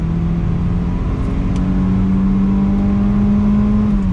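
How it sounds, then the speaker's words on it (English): A 1994 Toyota Celica GT-Four with all-wheel drive revving out in third gear, a loud, close, sustained engine drone climbing steadily in pitch with a faint whine over it. "Exiting on throttle, here we go. Rev it out, third gear,"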